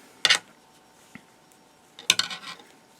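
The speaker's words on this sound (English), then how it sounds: "My needles are so long that they keep clacking on the table" Two short bursts of hard clacking, like knitting needles knocking on a tabletop, with a quiet gap and a faint tap between them.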